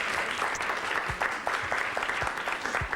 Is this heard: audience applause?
yes